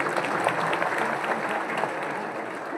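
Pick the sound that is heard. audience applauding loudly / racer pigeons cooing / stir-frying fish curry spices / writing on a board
audience applauding loudly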